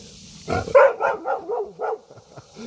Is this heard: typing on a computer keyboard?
no